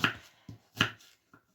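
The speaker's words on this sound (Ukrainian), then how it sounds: "Зараз поріжу цибульку і прямо буду наложувати у формочку" A knife chops an onion on a cutting board for baked river fish, giving a few sharp, separate knocks at an uneven pace. The strokes sound close and fairly quiet, and no one speaks.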